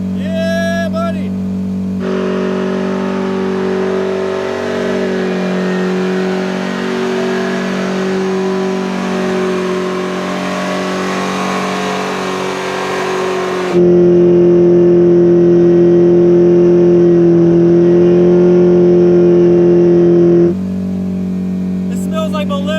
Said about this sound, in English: Not bad at all for a Helium tire burnout.